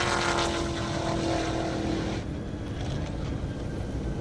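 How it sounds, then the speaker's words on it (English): A Cadillac CTS-V making a drag racing pass on an airport airstrip, a loud roaring engine that holds strong and then fades as the car pulls away, with no talk. "Derek Downing in that CTS-V. Looks like a good pass."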